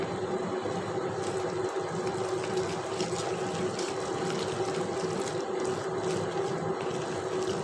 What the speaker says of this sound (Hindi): इसमें मुझे अभी भी लग रहा है थोड़ा सा पानी की और ज़रूरत है, इसलिए मैं थोड़ा सा पानी और डाल दूँगी।